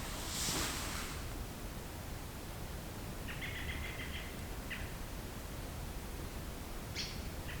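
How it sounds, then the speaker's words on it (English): A bird calling in quiet Utah wilderness near Fish Creek National Trail, giving a few short, faint chirping phrases far off over a steady background hiss. "Apart from that bird."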